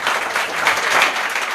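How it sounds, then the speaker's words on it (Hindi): An audience claps steadily and loudly at an open mic show held at an industrial training institute in Delhi, a dense, even burst of applause with no talking. "एक बार फिर से ताली बजाइए इसके लिए।"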